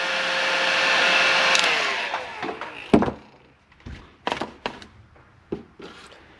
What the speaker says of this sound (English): Get your heat gun. Melter on.